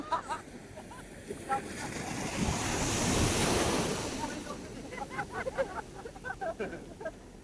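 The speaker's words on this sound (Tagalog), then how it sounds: "Grabe mga idol, ang lakas ng alon." Strong ocean waves surge and crash at a fishport in Infanta, Quezon, a loud continuous roar that swells to a peak midway, with wind buffeting the microphone and people talking and shouting nearby.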